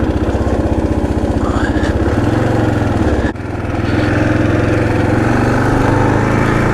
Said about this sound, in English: let's rev that one banger.